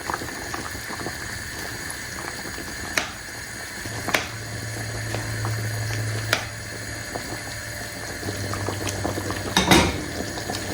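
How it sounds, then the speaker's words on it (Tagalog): Beef mechado stew stirred in a pot as it simmers, with a steady bubbling hiss and a few soft scrapes and knocks of a utensil against the pot, close up. "Haluin uli natin siya."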